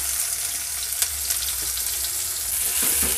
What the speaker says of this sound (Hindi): ये बड़े साइज़ का बारीक कटा प्याज है आप मीडियम साइज़ के दो ले सकते हो इसे भी डाल के सौते कर लेंगे